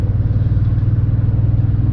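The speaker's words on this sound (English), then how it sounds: "So let's see if we can merge up onto the highway here and see how this hybrid feels." A 2022 Toyota Tundra TRD Pro hybrid pickup accelerating up a ramp to merge onto a highway, heard from inside as a loud, steady, low engine rumble without talk.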